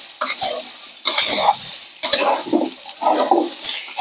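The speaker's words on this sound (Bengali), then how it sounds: "এবার এটাও আমি ভালো করে নেড়ে চেড়ে কষিয়ে নেব তরকারিটা।" Silver carp curry with turmeric, chili powder and ginger-garlic paste being stirred in a pan, a loud sizzle with repeated scraping strokes of a spatula in a steady rhythm.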